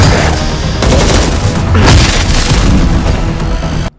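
Master Chief fires a run of gun rounds in the Halo TV show. The bursts are loud and booming, packed close together in rapid succession, and cut off abruptly at the end.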